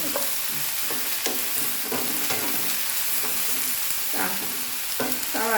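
Sliced onion fries over high flame on a small burner, a steady close sizzle broken by irregular scraping stirs of a spoon in the pan, with no voices, during preparation of an okra dish.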